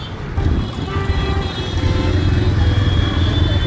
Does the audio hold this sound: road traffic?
yes